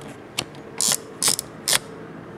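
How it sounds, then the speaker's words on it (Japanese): Film advance lever on a Konishiroku Pearl III folding camera being wound, giving four short, crisp ratcheting bursts of clicking, close and clear with quiet gaps between them. "このレバーでロック解除して巻きます。"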